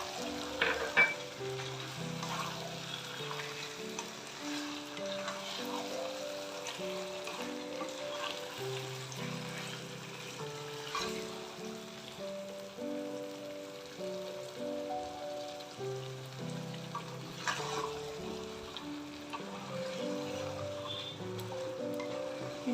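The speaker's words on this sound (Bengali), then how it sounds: "সেটা আমি নাড়াতে থাকবো। আর এর মধ্যে আমি টমেটো পিউরিটাও দিয়ে দেবো।" Onion chicken masala with tomato puree sizzles steadily in a pan, stirred throughout with soft scraping and clinks, and occasional quiet background tones.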